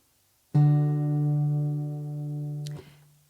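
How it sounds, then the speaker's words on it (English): Three guitar strings plucked at once, ringing together as one sustained chord for about two seconds before being cut off. "we're just going to pluck those 3 strings"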